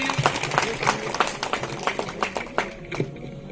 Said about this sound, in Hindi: मोहित सर के लिए जोरदार तालियां